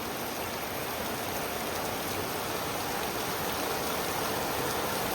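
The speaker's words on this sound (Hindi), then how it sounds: "अभी कांस्टेंट बहुत तेज़ बारिश हो रही है" Heavy, constant rain pours down in a dense, unbroken hiss, steady and loud from start to finish.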